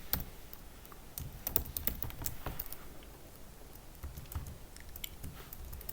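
Typing on a computer keyboard in a Linux terminal: close, irregular clusters of light key clicks with short pauses, fairly quiet and with no talking.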